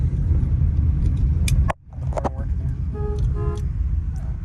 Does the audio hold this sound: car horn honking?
yes